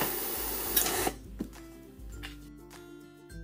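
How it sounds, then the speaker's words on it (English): A ClipsShop CS-TIDY-41 grommet attaching machine runs a cycle setting a washer and grommet. A brief rushing mechanical burst gives way to a low hum with a few sharp clicks and ticks. "press on the top button to activate a cycle"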